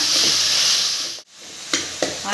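Onions and tomatoes sauté in a pan for a Tamil coconut milk fish curry, giving a steady hiss with a couple of short scraping stir strokes near the end.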